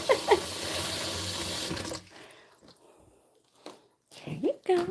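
Tap water gushes loudly into a dog's water bowl for about two seconds, then stops, leaving quieter clinks and a few soft voice sounds.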